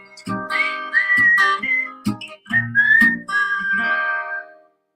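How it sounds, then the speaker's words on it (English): Melodic whistling carries a song's tune in sustained, wavering phrases over instrumental accompaniment, loud and close, with brief pauses between lines before the music fades out. "I love that whistling in there."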